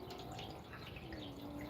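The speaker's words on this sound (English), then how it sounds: "I hear water running. Yeah, we just got a little fountain here." A small garden fountain runs with a faint, steady trickle of water, low and continuous in the background.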